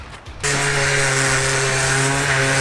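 A power sander grinding dried body filler on a fibreglass Reliant car body, starting abruptly after a quiet moment and then running loud and steady at close range with a droning hum.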